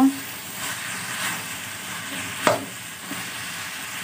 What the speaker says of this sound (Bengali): জিরা পাউডার এক চামচ মশলাটা দিয়ে আমি ভালো মতো নেড়ে চেড়ে দিয়ে দিচ্ছি